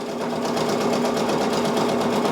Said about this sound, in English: I'm gonna let this stitch out and I'm gonna let you guys just watch it as it stitches